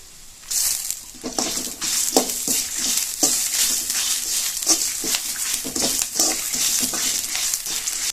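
Spices and curry leaves fry for a mutton curry, with a close, continuous sizzle broken by repeated spatula stirs and scrapes against the pan at an irregular rhythm.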